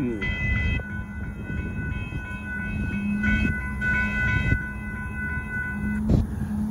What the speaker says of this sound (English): there goes Amtrak going by